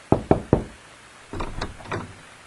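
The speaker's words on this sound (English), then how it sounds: "A police officer knocked at the door." Three sharp knocks on a house door by a police officer in the evening, evenly spaced and close, followed by fainter shuffling and door sounds with no talking.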